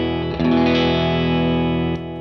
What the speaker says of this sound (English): the Lightspeed is kind of designed to be really organic, natural, overdrive, and it's really touch responsive